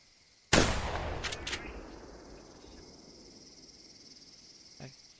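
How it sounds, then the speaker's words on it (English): A single sharp gunshot in theHunter: Primal bursts out loud, then trails into a long fading echo over soft insect-like chirping, with a faint click near the end. "I can hear gunshots very easily on the stream"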